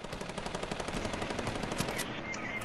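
Rapid automatic gunfire in a Fortnite Battle Royale match, a steady stream of loud, evenly spaced shots lasting a couple of seconds before easing off, with no voices over it.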